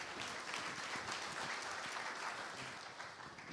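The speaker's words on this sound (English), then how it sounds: "Let's give him a nice round of applause," Faint, distant applause from diners at an enshrinement dinner, a steady wash of many hands clapping at low level throughout.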